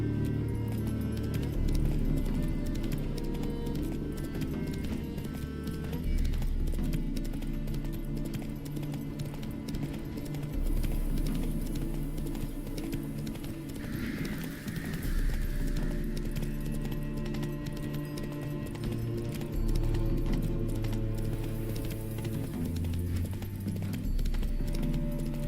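Roach, a horse in the video game Witcher 3, gallops steadily with rhythmic clip-clop hoofbeats over a continuous game background, with no pause and no voices.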